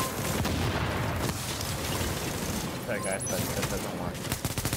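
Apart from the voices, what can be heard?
shotgun gunfire in a video game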